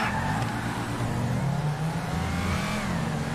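Car engines rev and roar in a street race in GTA RP, a steady loud engine drone that climbs in pitch as the cars accelerate, with no talking.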